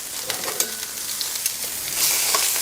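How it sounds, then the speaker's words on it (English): A thinly sliced sweet onion cooks in a hot pan, giving a steady, close sizzle and crackle throughout with a few sharper pops and no voices. "in my hot pan, I'm going to drop in 1 sweet onion that has been thinly sliced"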